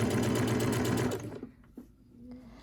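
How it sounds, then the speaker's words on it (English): A sewing machine stitches bias tape along a fold line on a dress, running in a fast, steady mechanical whir for just over a second before stopping, leaving only faint handling noise. "Make sure that you are stitching on the fold line."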